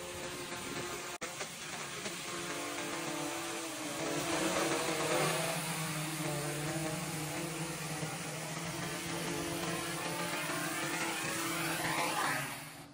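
A DJI drone flies back on its own to a preset location after the remote is switched off. Its propellers make a steady, buzzing whir that swells midway and holds, with no voices.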